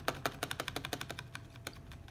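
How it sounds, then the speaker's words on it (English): Keys on a KLIM Lightning keyboard, the space bar among them, are pressed in a quick run of about a dozen close, crisp clicks and clacks that slow toward the end, faint and alone with no talk. "So this is the space bar."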